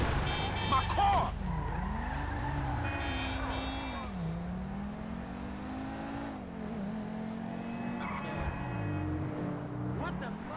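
Car in Grand Theft Auto 5 driving off-road, engine revving and rising and falling in pitch as tires skid and squeal across rough ground, continuous and loud, with speech over parts of it.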